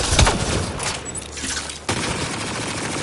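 Loud gunfire from the sci-fi shooter game Mass Effect Andromeda, a dense burst of shots and impacts that drops off briefly and then resumes as a steady roar of combat noise.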